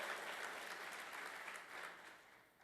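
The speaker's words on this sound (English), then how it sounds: "And clap for yourselves, that's good." Steady audience applause at a political gathering, a dense wash of many hands clapping, faint and distant, continuing without pause and easing slightly near the end.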